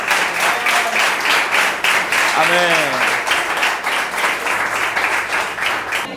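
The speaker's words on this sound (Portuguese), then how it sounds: "As palmas, as palmas." A church congregation claps together in sustained, dense applause that fills the whole stretch, with one voice briefly calling out over it partway through.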